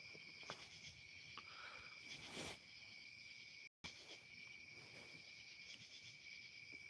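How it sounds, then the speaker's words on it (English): Crickets chirp steadily in a park at night, a dense continuous trill with faint scattered insect, cicada, and frog or toad calls, quiet and distant. "It's a lot of crickets and frog noises,"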